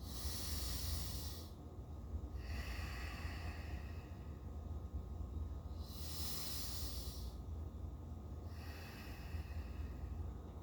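Slow nasal breathing into the belly, with two long soft hissing inhales and exhales at an unhurried, even pace, close and quiet over a low steady background rumble.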